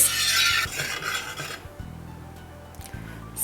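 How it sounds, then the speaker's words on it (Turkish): Spoon scraping and stirring thickening milk with semolina and sugar in a pot, a few close scraping strokes and faint clinks against the metal, with no voices. "Sütümüz koyulaşıncaya kadar karıştırıyoruz"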